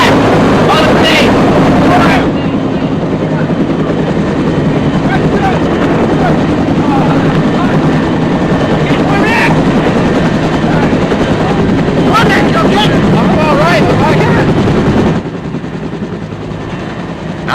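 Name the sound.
military helicopter taking off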